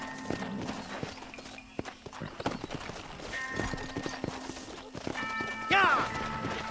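A horse gallops in the Western video game Red Dead Redemption, its hoofbeats quick and uneven against game music, with brief voices and a short high tonal sound near the end.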